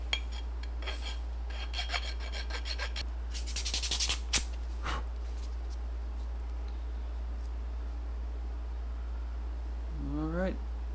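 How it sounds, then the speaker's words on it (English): A hand file rasps down hardened super glue on a handmade swimbait lure, a few short scraping strokes up close, with a louder burst of rubbing midway and a brief voice near the end. "So the super glue is hardened. Go ahead and file it down."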